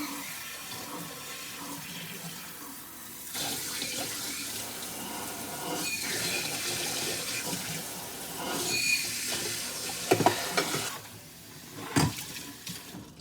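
A pan being rinsed under a running kitchen tap, with a steady broadband rush of water throughout, louder splashing and clattering bursts near the end as the pan is moved under the stream.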